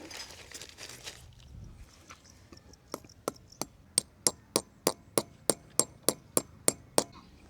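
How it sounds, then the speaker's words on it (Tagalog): A bolt is hammered in with a series of sharp metallic strikes, about a dozen evenly spaced blows that start light and grow louder and more regular, close by with no talk over them. "Pasok na po natin yung ating bolt. Iyon o. Pukpukin po natin."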